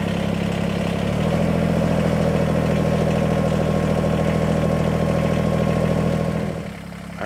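A diesel tractor engine runs steadily and loudly at close range while moving a pile of dirt, with a deep, continuous drone that lifts slightly in pitch early on, then dips briefly near the end.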